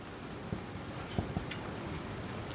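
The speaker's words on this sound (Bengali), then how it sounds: "তাহলে আমি এখানে আগের মতোই লিখবো যে ধরি" Handwriting on paper while working a Class 8 ratio and mixture math problem: soft, continuous pen scratching close by, with a few faint taps scattered through and no voice.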